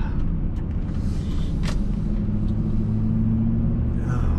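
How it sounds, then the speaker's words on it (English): A lawn care truck rolls past on the road, a steady low rumble that stays fairly even across a few seconds, with no talk over it. "There goes the lawn truck."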